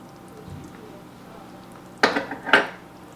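Peanut butter being stirred into a chocolate oatmeal cookie mixture with a spatula in a pot, heard as two quick close scraping clatters late in an otherwise quiet moment.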